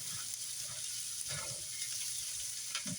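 Shrimp fried rice sizzles steadily in a hot pan, a continuous bright hiss with a few soft stirring bumps, close and moderately loud, with no voices.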